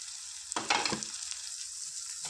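Capsicum curry sizzling and frying in a pan, a steady close hiss with a louder burst of crackling when the food is stirred.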